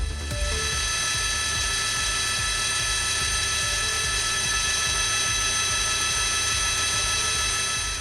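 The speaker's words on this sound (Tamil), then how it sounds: "சாண்டா மோனிகா மலைப்பகுதியில் தீயை அணைக்கும் பணியில் ஹெலிகாப்டர்கள் பயன்படுத்தப்படுகின்றன" Steady mechanical drone with a high whine and low rotor rumble, constant and unbroken throughout, from firefighting helicopters working over a wildfire in the Santa Monica Mountains.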